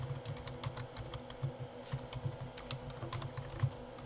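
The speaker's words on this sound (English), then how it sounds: "And now we can start typing normally." Steady typing on a computer keyboard while writing a Microsoft Word document, a quiet, continuous patter of key clicks with no talking.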